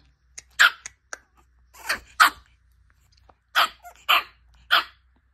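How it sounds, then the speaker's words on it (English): A small dog gives a run of sharp, high yapping barks, about eight close-up yips in uneven bursts separated by short pauses. "with a tiny little bark"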